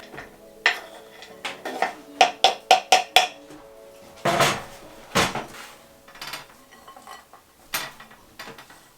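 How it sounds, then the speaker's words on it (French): Chocolate gets mixed into cookie dough in a bowl, with a series of sharp utensil knocks and clinks against the dish, some quick rhythmic taps and heavier scraping thuds, close and without talk. "maintenant on va venir ajouter le chocolat à la pâte"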